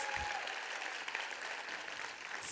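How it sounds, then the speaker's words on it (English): At a charity film awards ceremony, an audience applauds a bronze award winner with a steady wash of clapping, fairly faint and distant, continuing evenly throughout. "Big round of applause."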